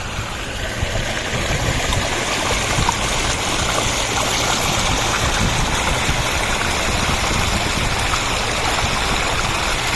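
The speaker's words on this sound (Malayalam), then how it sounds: "വെള്ളം ഒഴുകുന്ന സൗണ്ടാണ് കേൾക്കേണ്ടത്" River water rushes past a check dam shutter in a forest with a loud, dense, continuous roar that fills the whole stretch close by, steady and unbroken, with no voices.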